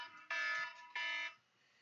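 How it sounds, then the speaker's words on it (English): An indoor alarm sounds two loud, steady electronic tones, each lasting about a second with a short gap between, then cuts off into quiet. "so that was the alarm going off just now."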